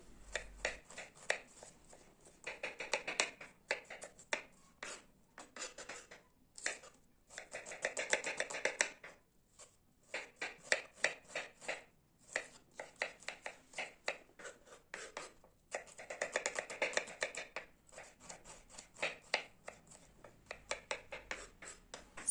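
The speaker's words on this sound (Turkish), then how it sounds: "Burada da soğanları ince ince küp küp olacak şekilde doğruyorum." A knife chops onions into small cubes rapidly on a cutting board in quick bursts of close, crisp taps, pausing now and then between runs.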